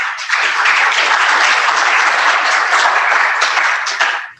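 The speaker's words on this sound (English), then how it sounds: "round of applause to them" Audience applause for panelists at a digital economy conference, a loud, sustained burst of many hands clapping that swells in quickly, holds steady for about four seconds, and fades at the end.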